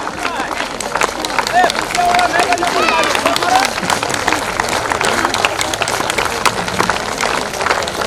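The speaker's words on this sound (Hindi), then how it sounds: "ताली रुकनी नहीं चाहिए" A crowd at a village district meeting claps continuously for guests, a dense, loud, sustained patter of applause with voices speaking over it throughout.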